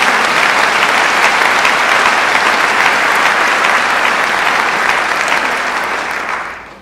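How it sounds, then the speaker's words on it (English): A large audience gives a loud, sustained round of applause at a cancer institute recognition event, a thick continuous clatter of clapping that tapers off at the very end. "Let's give him a round of applause."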